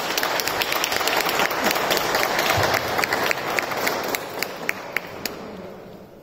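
Church audience applauding after an ocarina concert at Chiesa di Sant'Agata during the Budrio Ocarina Festival; full, reverberant clapping from the crowd that thins out toward the end into a few scattered individual claps.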